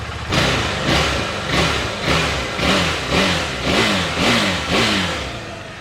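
A KTM 390 Adventure motorcycle engine revs sharply seven times in a steady rhythm, each throttle blip rising and falling back to idle, loud and close.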